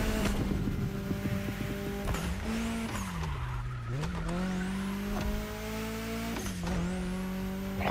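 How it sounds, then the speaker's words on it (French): A car engine in the racing game The Crew Motorfest drones and whines through repeated gear shifts, with whooshing turbo bursts between them, steady and fairly loud throughout. "Oh, le bruit du turbo."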